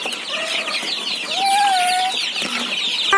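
Chickens cluck inside a small chicken shed, with short repeated calls and a few longer drawn-out notes rising over a steady background, fairly close with no talking.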